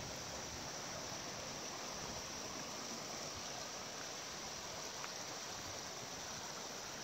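Steady rushing of a stream at the only water source on a climb along the Appalachian Trail, a dense continuous wash of flowing water close by with no other sounds.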